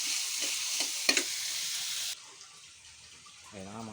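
Garlic and onion sautéing in a pan, a steady frying hiss with a couple of sharp stirring knocks that cuts off partway, then quiet before a voice begins near the end.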